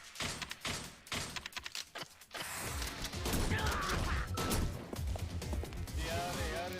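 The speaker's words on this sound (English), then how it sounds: "Shotgun time!" Shotgun blasts in the Yakuza Kiwami brawler, a rapid burst of sharp, loud cracks up front followed by a dense, sustained clatter of combat noise and game effects; a voice talks over it.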